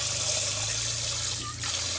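Hot water running steadily from a tap inside a van, a continuous hissing splash that fills the clip, close and alone.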